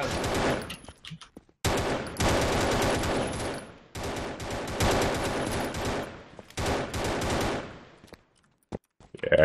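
Bursts of automatic gunfire come from a prototype first-person shooter game, several long rapid-fire volleys separated by short gaps, loud and close with no talking over them.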